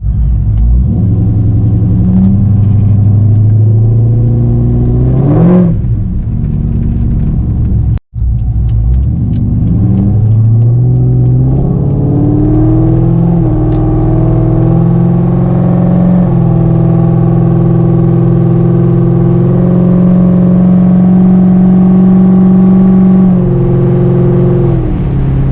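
A 500 hp car with turbo whistles fitted on its exhaust drives down a road, its engine rumbling loudly and close, with revs rising and falling as it accelerates and shifts, and no distinct whistle standing out.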